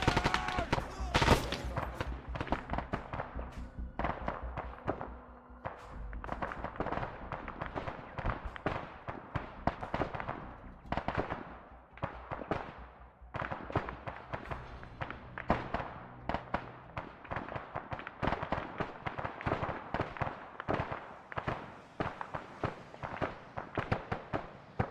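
Sustained gunfire in a tactical shooter game crackles almost continuously, with dense rapid bursts and single cracks overlapping, some near and loud, others softer and more distant, with no break in the firing.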